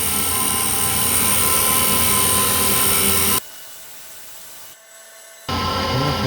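A custom form tool cutting on a machine in a shop, a loud steady whirring cut with a sustained tonal drone that stops abruptly partway, falls quiet, then resumes loud near the end.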